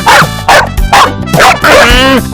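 A dog barks loudly and close by in a rapid series of sharp, repeated barks, with little else around it.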